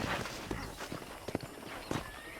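Horse hooves clip-clop in the Red Dead Redemption video game, a handful of sharp separate hoofbeats spread irregularly over a low steady background, moderately close and fairly quiet.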